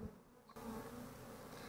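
A dense, steady buzz of a honeybee swarm being tipped into a top bar hive, close and continuous, growing fuller after a brief quieter moment at the start.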